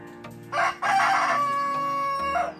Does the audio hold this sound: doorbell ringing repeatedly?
no